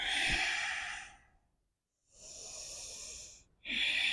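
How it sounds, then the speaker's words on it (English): Long, audible exhales through the nose during a yoga forward fold, two breaths separated by a brief silence and a third beginning at the end, close and soft. "Inhale, half lift. Exhale, fold."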